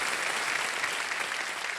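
A game-show studio audience claps steadily in dense, even applause that holds at a constant loudness throughout.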